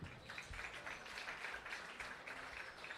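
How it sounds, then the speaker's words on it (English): Audience applause at a 4-H dairy show, a steady dense patter of many hands clapping from a crowd at moderate distance, continuous without a break. "We'll give all these guys a round of applause here."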